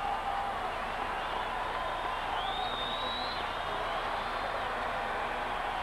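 A big crowd of 44,000 at a Dodgers vs Padres baseball game makes a steady, distant murmur that holds level throughout.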